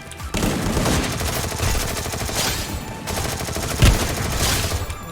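Rapid bursts of automatic gunfire from a Free Fire battle, dense and continuous fusillade with sharp shots and a heavier hit near the end, loud and close with no talk.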